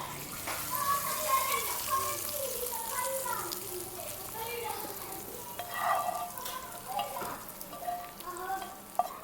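Spices for chicken tarka nihari sizzle and crackle as they temper in hot oil with a steady frying hiss, while a voice talks intermittently nearby.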